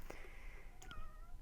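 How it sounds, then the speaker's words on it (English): A pet cat meows twice indoors: a drawn-out call, then a shorter rising one. Both are close and moderately loud, with no talking. "That's my cat meowing."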